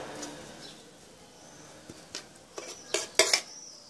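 A spoon stirs and scrapes a bird patty mixture in a metal dish, made as food for goldfinches and canaries; quiet at first, then a few clinking knocks building to louder metallic scrapes near the end.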